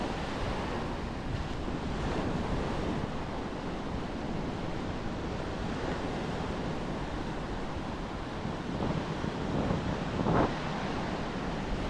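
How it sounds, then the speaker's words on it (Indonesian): Ocean surf on Nusakambangan island roars steadily and loud, with waves breaking continuously and wind buffeting the microphone throughout. "Ombaknya buat surfing bisa ini teman-teman."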